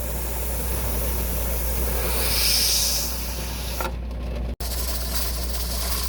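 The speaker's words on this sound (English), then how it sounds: "there is steam shooting out of here" Steam hisses steadily and loudly from the vent of a pressure canner while ground venison is hot-pack canned on a stove, a broad continuous rush that swells briefly midway and is then cut by a sharp short break near the end.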